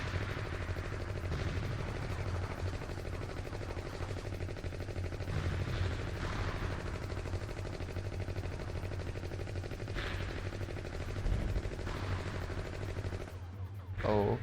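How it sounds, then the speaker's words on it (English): Missile launchers fire in the SeaBlade video game, a steady dense barrage of booming blasts and rattling gunfire-like bursts that runs loud and continuous throughout, with heavier swells near the end. "There's way too many missile launchers in here."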